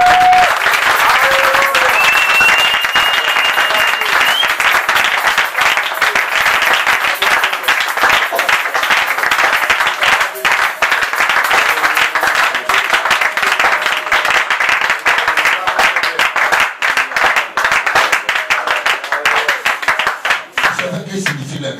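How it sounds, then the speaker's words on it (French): Church congregation applauding, loud sustained clapping from many hands filling the room for about twenty seconds, with a voice briefly audible at the start. "Acclamez le Seigneur pour la bénédiction."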